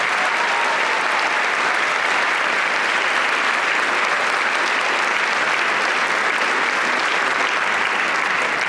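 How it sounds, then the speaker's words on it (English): Audience applause for the teachers at a Fresno unity festival concert, sustained dense clapping from a large crowd that stays loud and even for the whole stretch. "can we have another round of applause for the teachers?"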